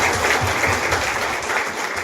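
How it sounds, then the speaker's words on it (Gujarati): A crowd of women claps together at a Rajput community women's conference in Bodeli, Gujarat, a dense, loud burst of applause held steady and close for a couple of seconds. "શ્રી ઘનશ્યામસિંહ બાપુને આપણે અભિનંદન આપીએ જોરથી તાળીઓ"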